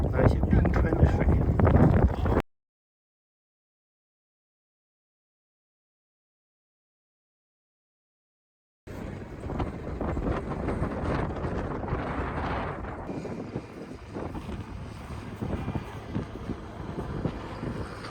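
Wind blows across the Athabasca Glacier in cold, wet weather and buffets the microphone with rough, rumbling gusts. A short burst opens, a long stretch of dead silence follows, then steady blustery noise returns for the rest.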